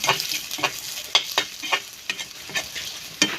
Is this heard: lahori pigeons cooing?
no